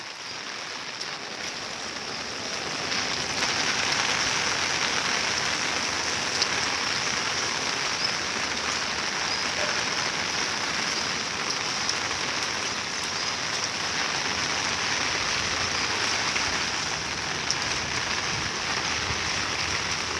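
Steady heavy monsoon rain pours down without a break, a dense, even hiss of drops close by on surfaces, with no voices.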